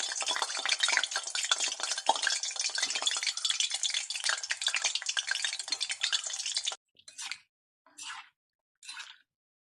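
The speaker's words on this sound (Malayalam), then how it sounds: "എണ്ണ ചൂടാകുമ്പം ഇതിങ്ങനെ കുറേശ്ശെ മാവ് നമ്മൾ കൈ ചെറുതായിട്ട് ഇങ്ങനെ നനച്ചിട്ട്" Small hand-rolled balls of sweet dough, the Saudi treat called doublings, deep-fry in hot oil with a dense, bright crackling hiss for about seven seconds, followed by a few short separate bursts of sizzle.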